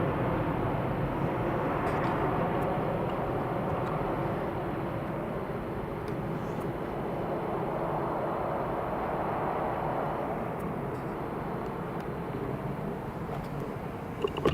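A Qatar Airways jet departs Edinburgh Airport with a loud, steady, broadband engine roar that holds for the whole stretch, swelling slightly midway, with no voices over it.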